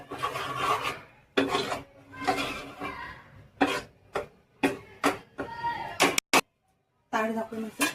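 Mutton curry being mixed in a pan, heard as repeated rasping, scraping strokes of a spoon against the pan in uneven bursts, close and fairly loud, with someone speaking between and over them.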